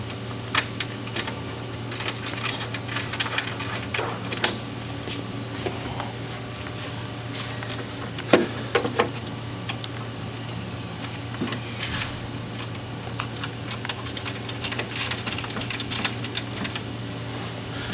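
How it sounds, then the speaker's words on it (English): A washer and nylock nut are fitted onto a motorcycle fairing by hand, producing small scattered metallic clicks and taps over a constant low hum, with a brief cluster of sharper clinks midway. "I'll go ahead and put the washer and nylock nut on."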